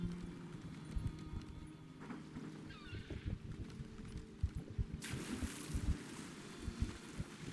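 Horse hooves clop at a steady walking pace in The Elder Scrolls Online, mid-level under wind and water noise as the horse moves through water, with a brief splash of brighter hiss near the end.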